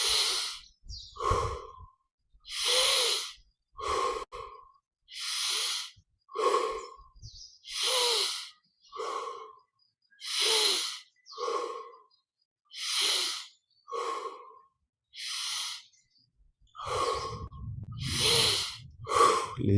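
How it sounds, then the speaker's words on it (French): Deep, steady breathing during guided yoga meditation, in through the nose and out through the mouth, with about a dozen loud, close breaths evenly spaced and separated by short silences. "20 grandes respirations. Inspire par le nez, expire par la bouche."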